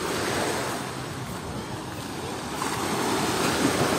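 Black Sea waves wash onto a beach, a loud continuous surf roar swelling and easing with wind buffeting the microphone and no voices.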